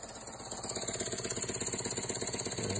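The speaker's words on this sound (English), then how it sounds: "that's how you control the speed of operation of this little steam engine" A small oscillating steam engine runs at reduced speed, giving off a quick, even chuffing pulse that stays regular and moderately close, with a faint rattle beneath and no talking.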